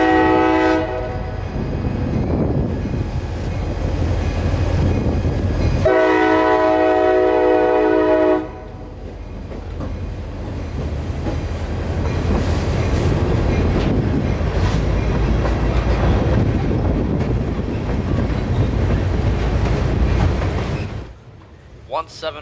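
CSX freight locomotive 750 crossing a lift-span bridge, its horn blasting in two long chords over a steady rumble and clatter of rolling cars, heard from nearby, with voices over the noise.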